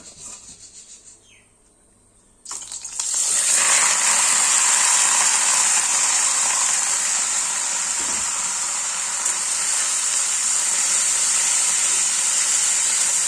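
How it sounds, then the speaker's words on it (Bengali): Amaranth stem greens (data shak) hit hot oil in a pan, setting off a sudden loud sizzle that holds as a steady, bright frying hiss after a quiet start. "এবার শাকগুলো ছেড়ে দেবো তেলে।"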